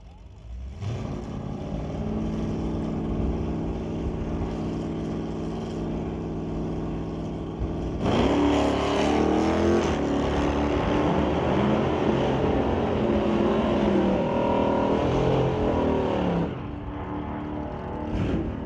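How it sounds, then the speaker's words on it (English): A Dodge Dart and a 2005 Dodge Ram pickup at a sportsman drag race, engines droning steadily and then surging louder at launch around the midpoint, a sustained roar that drops back near the end, with faint crowd or announcer murmur. "Bring up Veronica Hodgson for Lorco Auto Parts in her Dodge Dart, racing against Bruce Sturtz, running the 2005 Dodge Ram pickup."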